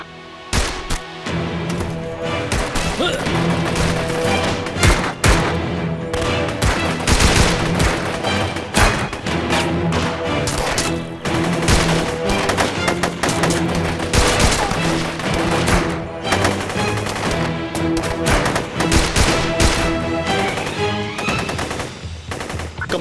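Dense, loud gunfire in a dubbed action drama: rapid machine-gun bursts and volleys of shots run almost continuously, close and overwhelming, with no talk.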